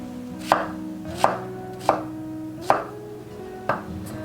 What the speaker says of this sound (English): So garlic smash and chop. A regular white onion.